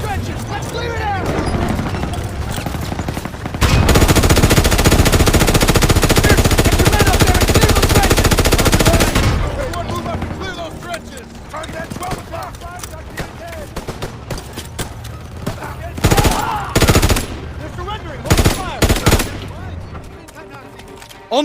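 Sustained machine gun fire from a World War II battle in Call of Duty WW2, a long loud continuous burst followed by scattered shorter bursts and single shots, with soldiers shouting between them.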